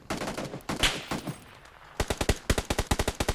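Rapid bursts of gunfire in the video game PUBG New State ring out, first scattered and then a sharp, evenly spaced volley of about a dozen shots near the end.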